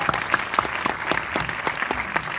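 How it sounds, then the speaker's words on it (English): Audience applause at a comedy screening Q&A in Brooklyn, NY, with a few loud individual claps and whoops standing out from a steady crowd clapping that carries on throughout. "Give a round of applause for Allison."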